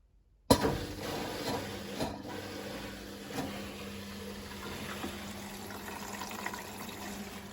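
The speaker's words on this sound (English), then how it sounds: "That's the water coming in" A Hotpoint Aquarius WF541 washing machine takes in water after switching on: a sudden onset, then a steady rushing, hissing inflow with a low hum and occasional soft clicks, continuing evenly and moderately loud.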